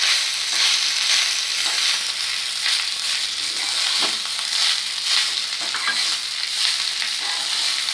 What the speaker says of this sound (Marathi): आता आपण हा भात घालूया याच्यात।